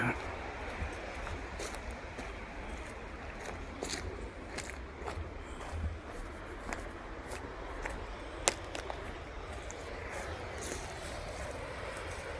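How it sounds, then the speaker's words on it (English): Big waterfall on the Upper Rogue River, a steady broadband roar of falling water filling the whole clip at a constant level, with no voices over it. "Big old waterfall"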